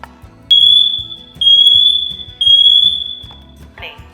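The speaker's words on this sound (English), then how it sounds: "This is a smoke and carbon monoxide alarm" Smoke and carbon monoxide alarm under test, sounding three loud, piercing beeps in a steady rhythm close by, with a voice talking quietly underneath between the tones.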